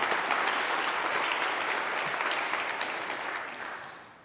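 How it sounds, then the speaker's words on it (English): Audience applause and cheering at a church parish meeting, a full steady round of clapping that tapers off toward the end. "yes, you can cheer for that"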